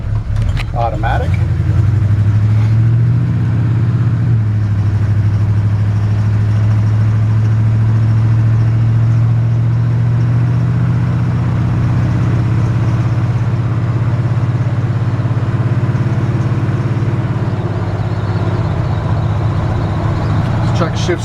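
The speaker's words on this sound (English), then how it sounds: "Truck shifts good through the gears, nice and smooth." A 1965 Chevrolet C-10 pickup truck with an automatic transmission, engine droning steadily as it drives and shifts through the gears, a loud continuous low rumble heard from inside the cab.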